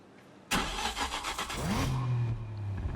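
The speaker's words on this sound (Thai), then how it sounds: "ก่อนอื่นเราต้องฟังเสียงรถก่อน" A Nissan Nismo 1000R in Need for Speed Unbound starts abruptly and revs hard, its engine note rising then settling into a loud, sustained growl close up, with no talking.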